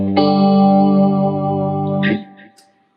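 Electric guitar through a TC chorus effect pedal, with one sustained shimmering chord ringing for about two seconds, then a brief pick scrape and a quick fade to silence.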